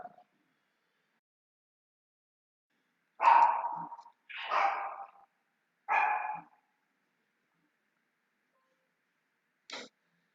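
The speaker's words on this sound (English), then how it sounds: "My dog, or not my dog, the neighbor's dog is going crazy." A neighbor's dog barks in three loud, close bursts with short gaps, followed by a fainter single bark after a long silence.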